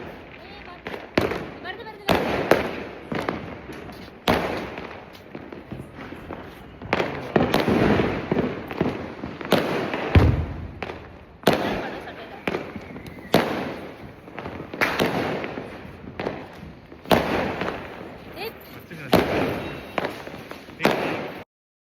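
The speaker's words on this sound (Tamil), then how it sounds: "நைட்டு வெடிகள்லாம் வெடிப்போம்" Diwali firecrackers bursting at night in Madurai, a long run of loud, sharp blasts in irregular bursts with crackling tails, close by, with voices talking between the bangs.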